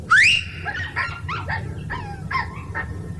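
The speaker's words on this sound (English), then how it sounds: "They heard my whistle, and they barked." Several dogs bark and yip in a quick, excited burst, high-pitched and fairly close, with a sharp first bark and shorter yelps after.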